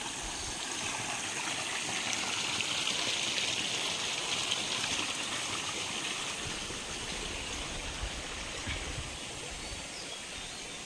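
Water running steadily through irrigation channels on an irrigated farm, fed along through palm and coconut trunk conduits; a continuous close trickling, splashing flow fills the scene, with faint birds in the background.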